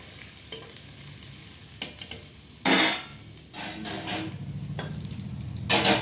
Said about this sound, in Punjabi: ਆਲੂ ਬੈਂਗਣ ਆਦੀ ਗਰਮ ਹੋ ਗਿਆ ਨਾ ਤੇਲ ਤੇ ਹੁਣ ਮੈਂ ਪਾ ਦਿੰਦੀ ਹਾਂ ਪਿਆਜ਼ ਇਹਨੂੰ ਪਹਿਲਾਂ ਚੰਗੀ ਤਰ੍ਹਾਂ ਆਪਾਂ ਭੁੰਨ ਲੈਂਦੇ ਆ